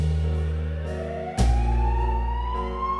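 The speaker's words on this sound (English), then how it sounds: "The distant wail of police sirens grew closer, piercing the quiet night." A police siren wails with a rising pitch, steady and fairly loud, over a low rumbling background at night with a brief thump partway through.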